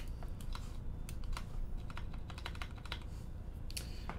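Keycaps being pressed and snapped onto a custom mechanical keyboard build, starting with the spacebar; a dense run of close, crisp clacks and clicks in irregular rhythm, with no talking.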